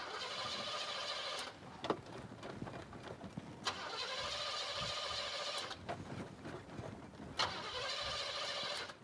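A project car's engine cranks over on the starter in three long, steady whirring bursts separated by brief pauses, close and fairly loud, without catching.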